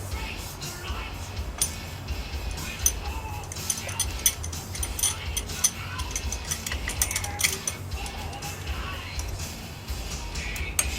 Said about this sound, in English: you need to compress the piston on the caliper anyway